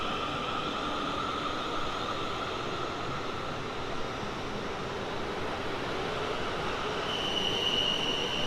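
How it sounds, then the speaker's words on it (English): A 12-car train rolling past on the South Western Main Line at Winchfield, a steady loud roar of wheels on rails with faint squealing tones, continuous throughout and no voices. "One human on a 12-car long train."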